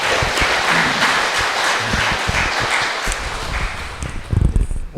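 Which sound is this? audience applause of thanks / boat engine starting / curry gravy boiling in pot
audience applause of thanks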